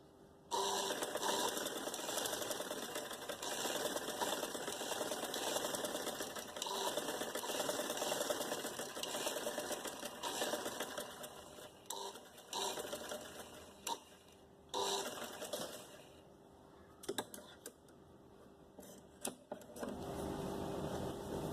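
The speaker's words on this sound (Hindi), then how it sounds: "इसको दबाते जाएं इस तरीके से मूव करके और इसको सिलाई लगाते जाएं।" A sewing machine stitches thread cord piping for a designer garment, running in long continuous whirring bursts with brief pauses between passes, close and steady with no talking.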